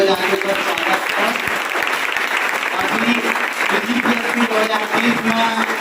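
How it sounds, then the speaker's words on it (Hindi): An audience gives a guest called to the stage a sustained round of loud, dense applause, clapping that holds steady throughout with voices mixed in beneath it. "जोरदार ताली बजा के स्वागत है"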